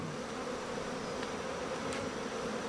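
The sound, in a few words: honeybees buzzing in a queenless hive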